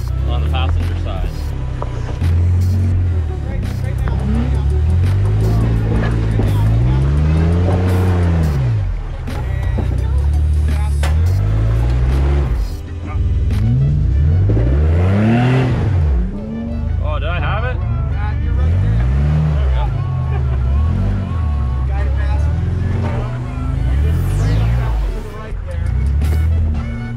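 A Jeep on a 4x4 off-road trail in Tillamook, Oregon, its engine droning and rising and falling in repeated revs as it climbs a bank, with people talking over it throughout.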